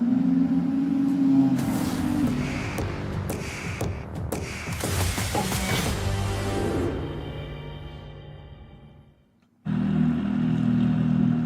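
Ferrari Challenge race cars rolling out and warming up at Sonoma, engines rumbling and sputtering in a loud, busy burst that fades toward near silence, then a steady engine drone resumes.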